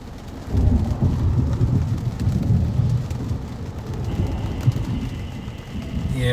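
Florida severe thunderstorm with a deep, rolling rumble of thunder over steady heavy rain, loud and continuous throughout with no talking.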